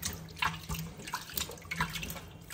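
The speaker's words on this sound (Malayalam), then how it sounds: "ഇനിയിപ്പോൾ നമുക്കിത് നല്ലപോലെ കഴുകി" Cleaned clam meat being washed for a Kuttanadan-style roast splashes and trickles in water, with irregular close sloshes and drips under a running stream.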